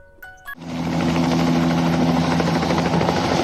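A helicopter's steady, pulsing rotor thrum and engine whine start suddenly after a short musical sound and continue loud and close to the end.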